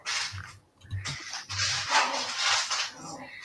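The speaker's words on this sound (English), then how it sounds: "That's the two dogs playing with each other." Two dogs playing rough upstairs, heard a little distant: short whimpers, yips and growly barks in bursts with scuffling between them.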